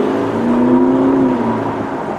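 A car engine pulls up through the revs, with a rising whine swelling over a steady drive rumble before it eases off, close and fairly loud.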